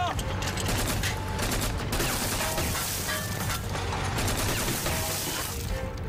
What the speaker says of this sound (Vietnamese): nhắm chuẩn bánh xe chuẩn bị bắn